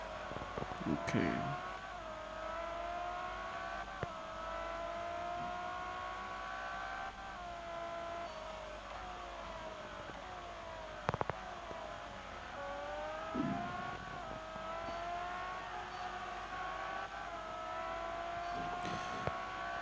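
Driving a Ferrari 599 GTO in a racing game, the engine hums in a continuous harmonic tone that rises and falls through gear changes and long pulls, with occasional thumps and a voice speaking over it.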